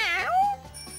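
A human voice imitates a cat's meow for an animal-guessing game, giving one rising then falling mew that drawls out near and clear, followed by faint quiet tones.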